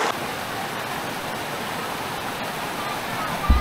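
Very cold mountain water running steadily from a tap or stream while something is washed on a drizzly, overcast outdoor camping trip, a constant rushing hiss with a brief clunk near the end.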